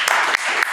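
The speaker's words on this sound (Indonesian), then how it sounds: "Tepuk tangan loh." Brief burst of crowd applause at a HIPMI Jaya business association event, dense clapping filling the moment at moderate loudness with no talk over it.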